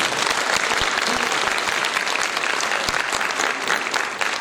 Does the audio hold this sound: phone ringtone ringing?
no